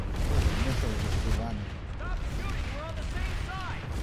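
PlanetSide 2 video game gunfire: continuous low rumbling bursts and booms of weapons fire throughout, with voices talking over the battle noise.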